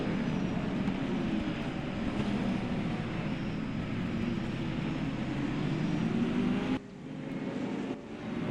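In the Raceroom racing game, a helicopter passes overhead on the Monza circuit with a broad, steady rumbling roar that stays loud and even, then cuts off abruptly near the end before returning more quietly.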